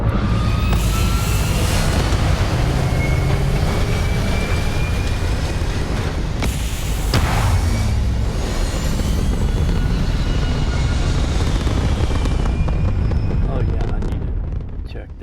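A spaceship lifts off in Starfield with a Star Wars mod: a loud, steady, wide engine roar and rumble that fills the whole stretch, with a brief sharper surge partway through before it eases slightly at the end.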